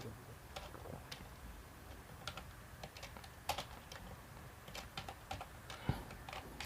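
Computer keyboard typing in sparse, irregular keystrokes and short bursts, fairly faint, with steady low room noise throughout and no talk.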